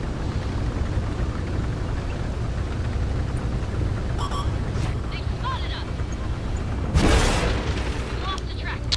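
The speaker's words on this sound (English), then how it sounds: "So I get another shot into the Kronwagen." A tank cannon fires in a video game battle with a Kronwagen, a booming blast standing out over continuous engine rumble and steady game noise, with brief metallic clinks around it.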